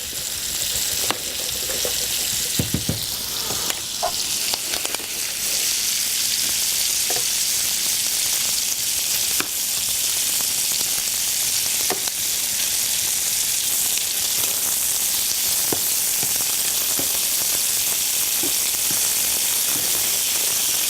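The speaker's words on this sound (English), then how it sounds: "we're going to boil that down until it's reduced" Apple juice and vinegar boil hard in a pan on the stove, reducing with a steady, close, loud sizzle and hiss and faint bubbling throughout, with no one speaking.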